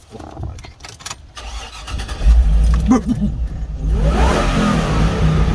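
A Hummer H2 with a 6.0 V8 and no mufflers starts up: a brief crank, then a loud, deep, rough idle that rises into a steady rumble and holds to the end.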